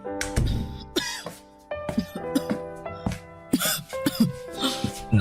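An older woman gives a string of harsh, hoarse coughs and throat-clearing bursts with strained, moaning breaths between them, close and fairly loud, set against a soft dramatic music backing.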